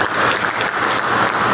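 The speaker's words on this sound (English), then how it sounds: "Please round our applause to him." Audience applause at a community meeting between a host community and a water board, a dense burst of clapping from a seated crowd, steady and moderately loud throughout the short stretch.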